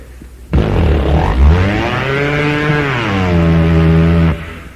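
A performer imitates an outboard boat motor sputtering to life, then holds a loud, rising engine drone before stopping abruptly.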